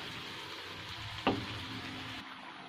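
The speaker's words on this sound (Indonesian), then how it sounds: "Menggoreng bumbu rajang khas Bali dan sampai kering, menempel di dasar" Chopped Balinese spice paste (bumbu rajang) fries in a pan while being stirred, a soft steady sizzle with one sharp scrape or clatter midway, then the sizzle thins out toward the end.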